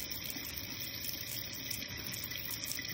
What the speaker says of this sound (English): take it over to this pot. Rinse them off real good